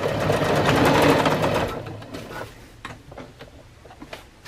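A sewing machine stitches a one-inch seam around the end of a sleeping bag stuff sack, running loud and fast for under two seconds and then stopping, followed by faint clicks and handling noises.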